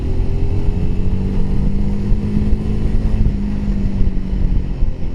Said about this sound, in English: let's drop down a gear into third and then I'll try and get it up there.